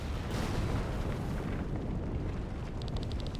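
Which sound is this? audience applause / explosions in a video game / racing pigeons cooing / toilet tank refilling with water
explosions in a video game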